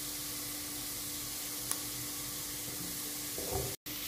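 A spinach soup base roasts with flour in a pot, giving off a quiet, even sizzle with a faint clink partway through and a brief scrape near the end, with no talking.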